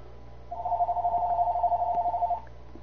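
A phone's electronic ringtone trills in one continuous warbling burst of nearly two seconds, steady and fairly close, over a faint background hum; nobody speaks.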